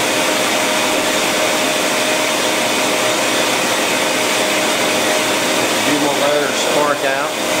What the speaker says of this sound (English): And that's how you grind the chuck jaws in on the lathe.